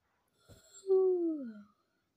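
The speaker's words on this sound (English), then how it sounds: "That was a fake yawn, by the way." A single deliberately faked human yawn, a short breathy intake then a drawn-out voiced tone that slides downward and fades, close and alone against silence.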